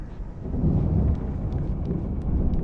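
Thunderstorm in Alan Wake Remastered, a deep rolling rumble of thunder under a low wash of wind and rain, with faint sharp ticks scattered through, loud and without voices.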